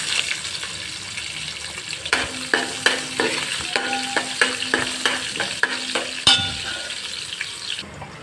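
Onions and green chilies fry in a pan with curry leaves for mint tomato rice, giving a steady close sizzle broken by a run of regular spatula clacks and scrapes against the pan, with no talking.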